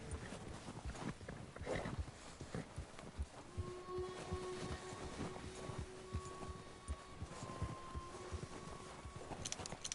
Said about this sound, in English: they will start snickering and nickering and snuffling to make, they will start making noises to announce their presence to the other horse